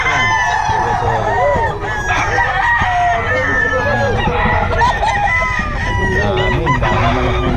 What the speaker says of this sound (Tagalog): Dami manok ng dito ni Boss Eric.